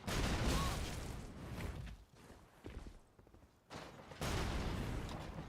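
A non-upgraded cannon in the video game Graceborne fires in loud, dense bursts up close. The blasts roll on in a heavy wash, drop away briefly midway, then return just as strong, with no talking.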